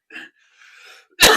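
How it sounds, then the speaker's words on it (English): A person lets out a short cough, followed by a faint breathy exhale, then a sudden loud, harsh cough burst close up, with no talking. "I've been coughing for like a week."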